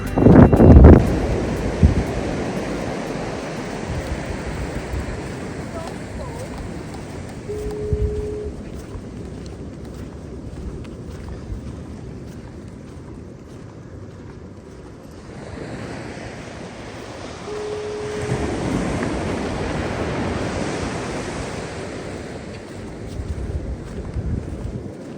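Ocean surf and gusting wind on Doran Beach, a Sonoma County park at Bodega Bay, California: continuous rolling wave wash with wind buffeting the microphone, loudest at the start and swelling again later.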